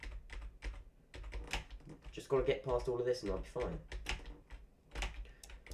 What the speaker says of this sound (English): I don't really like how you can probably hear my keyboard